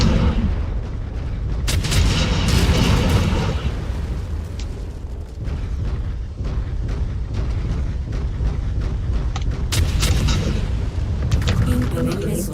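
Missile explosions in MechWarrior 5 burst with sharp cracks and deep rumbling booms, several impacts scattered across a steady heavy mechanical drone, loud and close.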